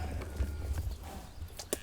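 Horse hooves clip-clop in a loose, uneven rhythm on a working cattle ride in Missouri, several riders moving at a steady walk at moderate distance, with faint outdoor background.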